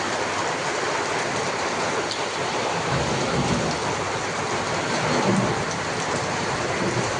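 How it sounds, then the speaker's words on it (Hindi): Steady, heavy rain pours down in a dense continuous hiss, with occasional low rumbles beneath it and no voices. "यहाँ बारिश हो रही है"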